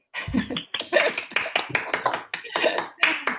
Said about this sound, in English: If people can unmute and clap for her, that would be very nice.